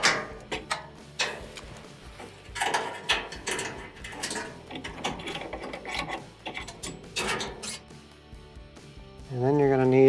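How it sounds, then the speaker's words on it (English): Springs come off a Whirlpool dryer under repair with a scatter of close metallic clicks, snaps and rattles, irregular and fairly quiet, followed by a brief voice at the end. "Disconnect your springs."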